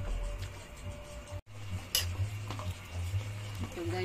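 Chop suey vegetables with longganisa stirred in a pan, giving faint scraping, clinks and a soft sizzle under a low background hum, with no talk.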